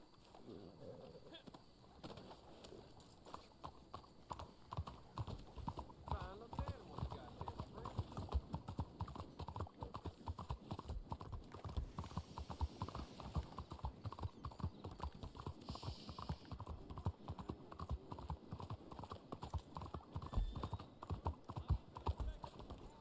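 Horse hooves clip-clop at a steady gallop in the online western game Red Dead Online, a dense rapid rhythm that runs almost continuously and stays moderately loud, with talk occasionally over it.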